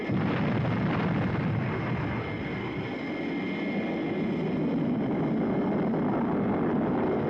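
Spaceship retro rockets firing in a Thunderbirds puppet TV series effect, a steady, loud roaring rumble that holds without a break from start to finish, with no voices.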